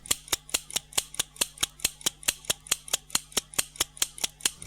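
Pair of scissors played as percussion, snapping shut in a steady, even rhythm of about twenty crisp metallic clicks, close and dry with nothing else audible.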